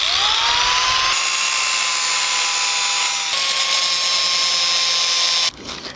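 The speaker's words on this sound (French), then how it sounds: "on va essayer de couper au plus près" Power tool cutting through a broken steel tube on a 24MX gazebo frame, a loud continuous high whine lasting several seconds close to the microphone before stopping abruptly, with no speech.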